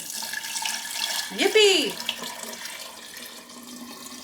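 A quart of water is poured into pickling lime, a short close splash and trickle rising over running-water noise, with a cheerful voice exclaiming during it.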